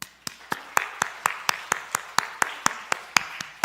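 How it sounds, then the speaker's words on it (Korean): A church congregation claps for its leaders in a steady, evenly spaced beat, about four claps per second, crisp and fairly quiet, with nothing else over it. "우리 리더들 위해서 한번 박수 할까요?"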